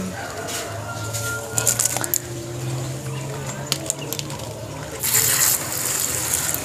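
Water is poured onto the porous potting medium of an aglaonema plant, a continuous splashing flow under a voice, with a few sharper splashes and a louder gush near the end.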